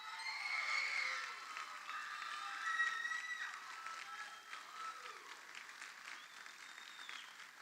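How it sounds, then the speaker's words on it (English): Sustained applause and scattered cheers from a crowd at a corrections academy graduation ceremony, steady and fairly distant, slowly thinning toward the end. "Let's give them one final round of applause."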